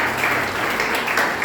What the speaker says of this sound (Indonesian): kita tepuk tangan bagi Tuhan Yesus